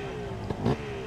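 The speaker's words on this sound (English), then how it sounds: "Two-stroke zinging." A two-stroke motorcycle engine at a hill climb buzzes with a high, zinging drone, with a short louder burst of throttle partway through.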